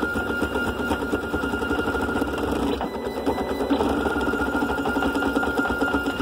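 A GARCAD 3D printer runs at high speed, around 400 mm/s with very fast acceleration, giving a steady, busy whirring and buzzing of stepper motors that stays loud and continuous throughout.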